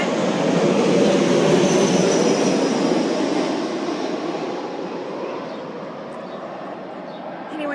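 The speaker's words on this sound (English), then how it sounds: "But I have heavy air traffic overhead." An airplane flies overhead outside a patio, a loud broad rumbling roar that is strongest at first and slowly fades as it moves away.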